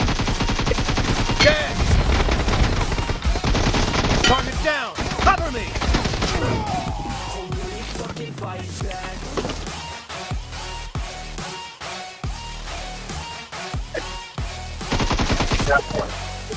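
Gunfire in a PUBG Mobile team deathmatch, dense rapid shots in bursts under a busy mix of game music and announcer voice callouts, loud and continuous throughout.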